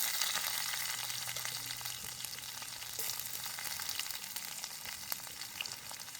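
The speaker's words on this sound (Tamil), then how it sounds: "அதோட சேர்த்து வெங்காயத்தையும் கொஞ்சம் வதக்குது." Onions and fennel seeds frying in oil in a village kitchen, a soft continuous sizzle with light crackling pops and occasional stirring, fairly faint and without voices.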